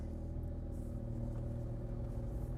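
Engine of a Smart Roadster, a 452 barn find just brought back to running after an EFI fuel pump fix, rumbling steadily at idle close by with a continuous low drone and no talk.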